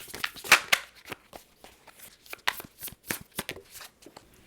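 Tarot cards handled during a pick-a-card reading, with papery slaps, flicks and rustles in an irregular run of close, fairly loud bursts and no voice.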